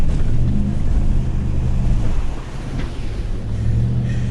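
The 6.2-litre V8 of a 2022 Chevrolet Silverado ZR2 rumbles as the truck drives off-road through water, mud and rocks, a loud, steady low growl with splashing and cabin rattles, no talk.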